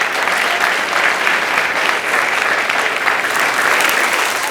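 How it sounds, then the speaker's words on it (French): Enthusiastic audience applause for volunteers at a TEDx event in Saclay, a dense, even roar of clapping from a large crowd that holds steady without pause or voices. "Merci de les applaudir très très fort."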